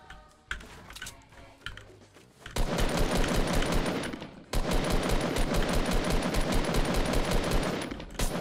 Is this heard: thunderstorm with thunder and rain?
no